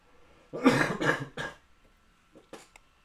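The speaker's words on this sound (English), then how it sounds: "I'm about to cough again." Three quick coughs in a row, close and fairly loud, followed by a pause and a couple of softer throaty coughs.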